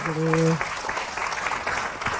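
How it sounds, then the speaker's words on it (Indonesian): A studio audience claps for a speaker on an Indonesian Islamic Ramadan TV show. The clapping is dense and steady across the whole short moment, and a brief tone or voice sits over its opening half-second. "tepuk tangan buat Ustaz Zalulung."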